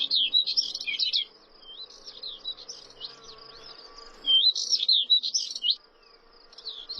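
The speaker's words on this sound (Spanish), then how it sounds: "Los cantos de la curruca carrasqueña y de la cogujada montesina lo inundan todo" Subalpine warblers and Thekla's larks sing in spring countryside, bursts of high twittering phrases coming and going in repeated bouts over a quiet background.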